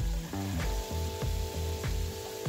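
Red and yellow bell pepper strips hitting a hot pan for chicken fajita quesadillas, giving a steady loud sizzle with a few rhythmic clacks from the pan or utensil, close up and with no talking.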